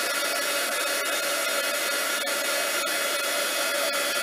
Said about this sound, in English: I'm going to simply turn it on and move the heat tool while I heat up my cardstock